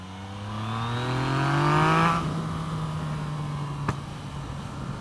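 Yamaha FZ09 motorcycle with a Yoshimura exhaust revs up steadily over about two seconds, its pitch climbing, then drops back to a steady idle-like drone, with one sharp click near the end. No one speaks.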